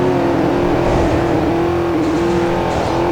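An Audi car at full throttle, a continuous loud engine roar with a steady droning pitch that wavers slightly as it pulls hard.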